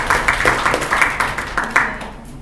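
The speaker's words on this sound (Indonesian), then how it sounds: "Tepuk tangan buat Naomi" A classroom of students applauds a classmate named Naomi with a short burst of brisk, fairly even claps that fade out after about two seconds.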